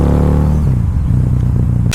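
A Harley-Davidson motorcycle engine rumbles close by on a test ride, its revs dropping from a higher drone to a lower, uneven throb before the sound abruptly cuts off.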